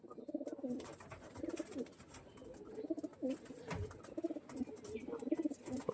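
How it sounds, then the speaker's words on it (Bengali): Pigeons coo repeatedly in a rhythmic, throaty series, close by and fairly soft, with no talk over them; the birds are flying-breed pigeons kept for sale, including an original-breed male. "এটা বন্ধুরা নর পায়রাটা দেখুন শুধু"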